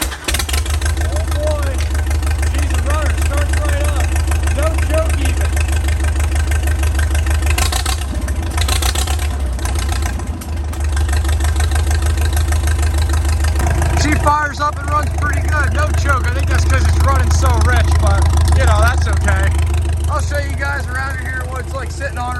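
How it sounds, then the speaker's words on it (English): An antique farm tractor engine idling after a cold start, a loud, close, low rumbling chug that runs steadily throughout, briefly dipping and then settling again, with someone talking over it. "Oh boy, she's a runner, starts right up."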